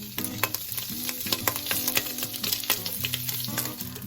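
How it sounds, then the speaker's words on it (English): Four pieces of turkey bacon browning in a large pan, a steady close sizzle with frequent scraping and stirring clicks, while a low hum runs underneath. "The first step is to brown up 4 pieces of turkey bacon in a large pan"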